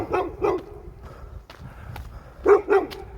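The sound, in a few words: dog barking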